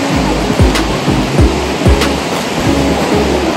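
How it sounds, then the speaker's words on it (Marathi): Surf rolling in at Anjarle beach near Dapoli, Ratnagiri, just after rain: a steady, close wash of breaking foam with repeated low surges about every half second to second, alone with no voices. "मऊशार रेती व फेसाळ लाटा, डोळ्यांचे पारणे फेडणारा समुद्र"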